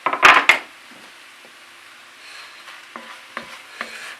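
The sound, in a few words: sausages frying in a pan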